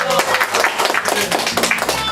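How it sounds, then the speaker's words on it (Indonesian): Applause from a seminar audience thanking a guest lecturer, steady dense clapping filling the whole stretch at close range. "Tepuk tangan buat Pak Bernardo"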